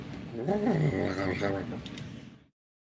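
A voice imitates a cat's purr, a low rolling rumble held for a couple of seconds, with breathy vocal tones mixed in.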